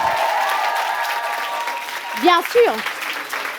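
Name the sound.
audience applause for the singer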